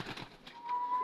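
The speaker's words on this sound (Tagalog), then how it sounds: "Ibon, no?" A single pigeon gives a short, soft, low coo close by, with a faint thin whistle-like tone under it.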